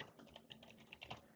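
Quick, light clicks of typing on a computer keyboard, a rapid irregular patter of keystrokes heard close and quiet.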